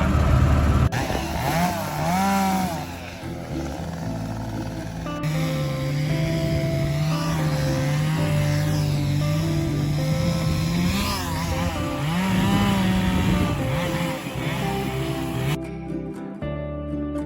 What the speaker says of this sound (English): There are 2 chainsaws on site right now